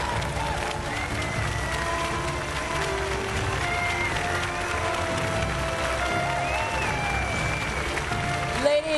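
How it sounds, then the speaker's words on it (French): At the 2013 Bocuse d'Or culinary competition, the audience gives the international jury president a dense, steady round of applause that fills the hall without a break, with music sounding underneath the clapping. "Je vous demande d'applaudir le président du jury international, Monsieur Rasmus"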